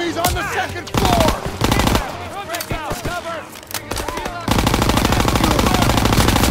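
Dense World War II combat in Call of Duty WWII, with loud continuous machine-gun and rifle fire, rapid overlapping bursts and ricochet whines throughout, and shouted voices mixed in.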